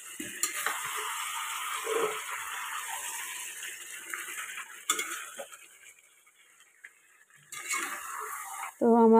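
Chicken curry meat is stirred and fried in a pan, giving a steady close sizzle with repeated scraping strokes of a spatula against the metal and occasional clinks, while a person talks at moments.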